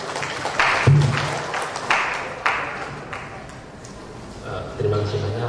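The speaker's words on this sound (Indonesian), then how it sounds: "Tepuk tangan bagi Pak Karim." Audience applause for Pak Karim at an Indonesian entrepreneurship talk, a burst of clapping that swells and fades under a speaker's voice.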